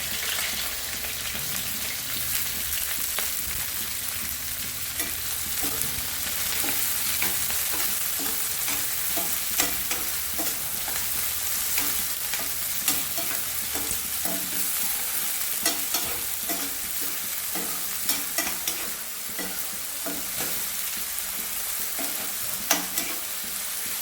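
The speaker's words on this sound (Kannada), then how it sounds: "ಉಳ್ಳಾಗಡ್ಡಿ ಮೆಣಸಿನ್ಕಾಯಿ ಸ್ವಲ್ಪ ಕೆಂಪಗೆ ಹಾಕಕ್ಕೆ ಬಿಡ್ಬೇಕು" Onions and green chilies frying in oil, a dense, continuous crackling sizzle with frequent stirring scrapes and clicks, close and fairly loud, with no speech.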